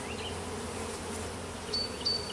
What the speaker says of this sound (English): Let the bees fly.